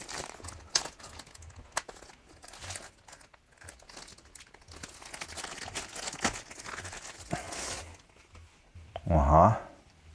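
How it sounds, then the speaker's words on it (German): Packaging of a DJI Mini 3 Pro drone with its DJI RC controller crinkles and rustles during unboxing, with intermittent plastic and cardboard handling noises and a louder crunch near the end, close up. "Mal auspacken."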